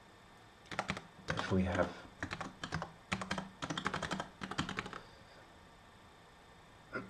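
Code typed on a computer keyboard in quick bursts of key clicks, close and moderately loud, with a brief spoken phrase mixed in and a pause toward the end.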